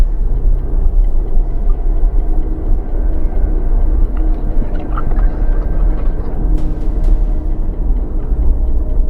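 A Jeep crawling slowly in low gear down a rough off-road trail in Arizona with light braking, a loud, close, steady low rumble lasting throughout, no talking.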